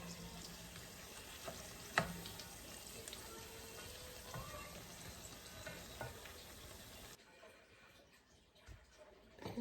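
Snacks frying in a pan, sizzling steadily at moderate loudness with a brief clatter near the start, then dropping to a quieter, softer sizzle toward the end.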